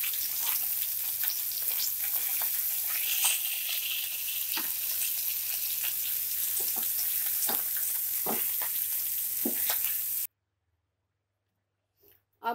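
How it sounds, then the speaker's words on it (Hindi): Fish frying in oil for fish muri ghonto gives a steady, close crackling sizzle with scattered pops and a few stirring clicks, then cuts off abruptly into near silence for the last couple of seconds. "इसको अच्छे से फ्राई करना पड़ेगा"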